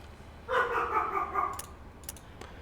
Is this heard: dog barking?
yes